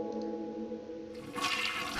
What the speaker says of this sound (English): I can flush the toilet.